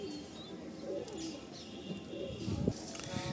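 Pigeons cooing in a loft, several soft low coos close by over a quiet background.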